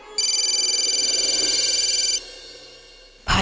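A telephone rings with a steady, rapid electronic trill for about two seconds, then stops, followed by a quiet pause and a brief burst of noise at the end.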